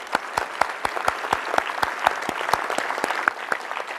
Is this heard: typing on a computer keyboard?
no